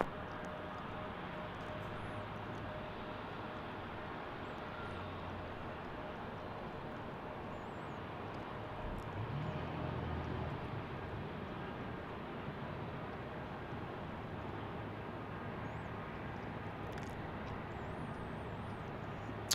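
Southwest airliner taxiing at Salt Lake City airport, heard as a steady, distant engine drone with a low rumble, rising slightly midway and continuing evenly beneath faint background noise.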